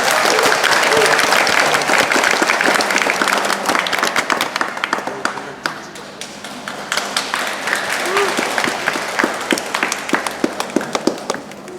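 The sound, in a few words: wedding guests applauding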